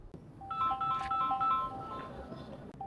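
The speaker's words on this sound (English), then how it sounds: "Boss, phone is ringing, you know." A telephone ringtone plays a repeating electronic melody of short tonal notes, clear and fairly close, with no talking.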